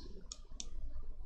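A computer mouse double-clicks during 3D modeling work: two sharp, close clicks about a third of a second apart over a faint room hum.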